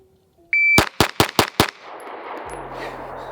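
A handgun fired at a shooting range after a shot timer's short beep: five sharp, loud shots in a quick, even string, followed by a ringing decay and low background hum.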